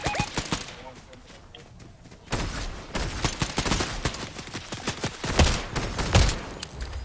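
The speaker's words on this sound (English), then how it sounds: "Oh, who's shooting at us?" Rapid bursts of gunfire in the Fortnite video game, scattered shots at first, then denser volleys with a few heavy booming hits toward the end, loud and close, with a player's voice talking over parts of it.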